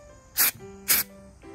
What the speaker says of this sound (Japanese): 今日塗るのはこのアンダーコートっていうスプレーで、車の下回りのね保護塗料なんですけど